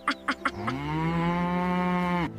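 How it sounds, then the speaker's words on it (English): A cow in the countryside gives one long, loud, close moo after a few short grunts, with nothing else heard. "Look at the cows."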